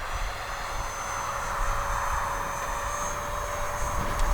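A HobbyZone Arrows RC Viper 50mm electric ducted-fan jet flies past outdoors with a steady, high rushing whine that holds at fairly even loudness throughout, with no talking.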